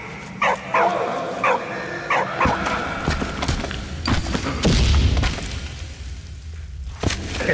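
A dog in the war game Valiant Hearts: The Great War lets out a run of short yips and whimpers, followed by dull thumps and a deep boom, with faint talk underneath.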